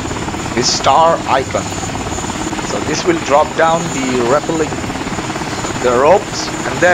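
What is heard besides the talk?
helicopter hovering in MOWAS2 video game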